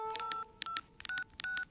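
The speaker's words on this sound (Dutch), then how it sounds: "Tik, tik, tik door de poortjes van Romke op een mobiele telefoon" Mobile phone keypad beeps sound as a number is dialed, several short distinct tones in an uneven sequence, close and clear with no talking.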